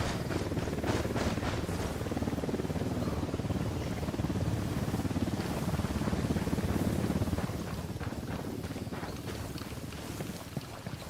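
Helicopter in the video game Ghost Recon Wildlands, a steady loud rotor drone under wind-like rushing noise, holding level for about seven seconds before easing slightly.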